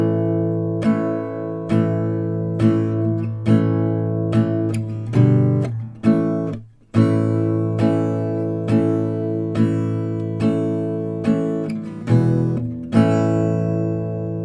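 Acoustic guitar strumming the chorus of a song with straight downstrokes, steady evenly spaced strums that change chord now and then, one brief pause midway, close and alone with no voices.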